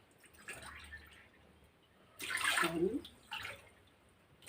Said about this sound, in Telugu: మూడు గ్లాసులు వాటర్ వేద్దాం